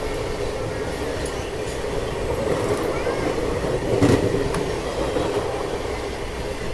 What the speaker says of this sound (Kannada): Hospet CSMT express.